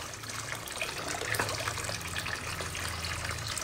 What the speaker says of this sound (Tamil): இப்ப பாருங்க இன்னும் எவ்வளவு ஃபுல்லா தண்ணி விட போறேன்னு